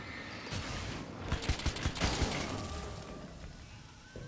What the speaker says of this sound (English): He's throwing grenades at me.